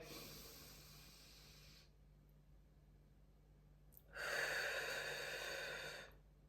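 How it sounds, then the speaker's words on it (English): Slow, deliberate box breathing: a long airy inhale, a pause in near silence, then a long hissing exhale, close and quiet with no talk. "4 seconds inhale, 4 seconds hold, 4 seconds exhale, 4 seconds hold."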